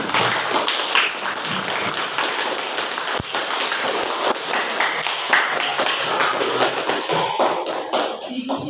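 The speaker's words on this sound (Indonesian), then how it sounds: "tepuk tangan" A classroom full of people clapping together, a dense, steady patter of hands lasting the whole stretch with no voices over it.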